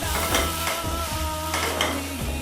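Egg paratha frying in oil in a pan, a loud steady sizzle close by with a low hum underneath and faint stirring or scraping, no talk.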